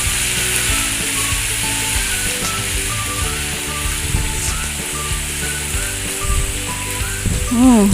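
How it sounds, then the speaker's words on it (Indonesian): Chilies frying in oil: continuous close sizzling and popping, steady throughout, with faint scraping of stirring near the end. "Kita goreng sampai kering sekali."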